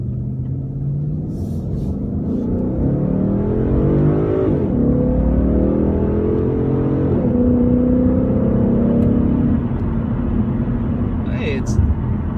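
A 2016 Ford Mustang GT base model with automatic transmission, in sport mode and first gear, accelerates with a loud, steady engine roar heard from inside the cabin, its pitch climbing and then resetting at shifts.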